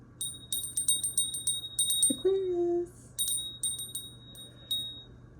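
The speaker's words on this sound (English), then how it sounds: "Let's start with ringing the bell." A small bell is rung in quick repeated bursts of bright, ringing strikes. One spoken word sits between the bursts, and a low hum runs underneath.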